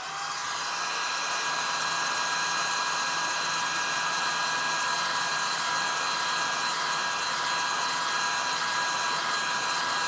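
A hair dryer runs steadily and loudly the whole time, blowing to quickly dry a decoupage glaze, a constant whirring with a high whine and no talk over it.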